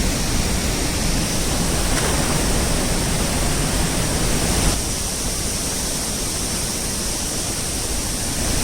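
A powerful waterfall near Aamla village, Suryamal, swollen after rain, roars as a loud, steady broadband rush of falling water, continuous and close with no voices.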